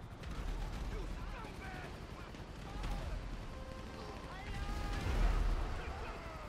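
Gunfire from the video game GTA 5, rapid bursts of shots and explosive cracks layered over dense game noise, with excited talk over the action.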